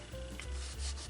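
Paper being folded for origami curtains gives a short, close rubbing and creasing sound, soft and brief with no voices.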